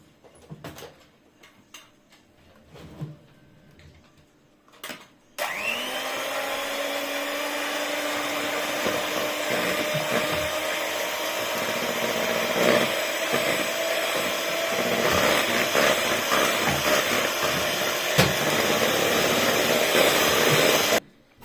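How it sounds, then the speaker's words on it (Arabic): An electric hand mixer beats brownie batter of melted chocolate and butter, whirring loudly and steadily for about sixteen seconds after a few quiet bumps and clicks. "وغادي نبدا نضرب بالخلاط الكهربائي."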